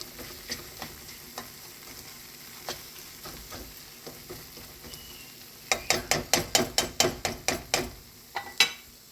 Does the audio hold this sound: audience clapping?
no